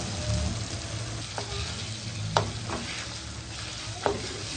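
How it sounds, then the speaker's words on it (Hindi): Mashed eggplant bharta being stirred into fried masala in a pan: a low continuous frying hiss with a few sharp scrapes of the spoon. "अब हमने ये मैश करके जो रखा हुआ था भरता, ये अब हम इसमें डालेंगे"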